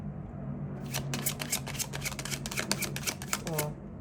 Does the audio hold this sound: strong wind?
no